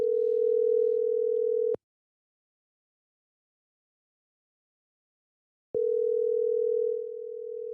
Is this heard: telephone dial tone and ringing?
yes